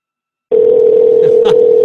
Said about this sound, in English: As the phone's ringing, I wish I could keep down the volume a bit.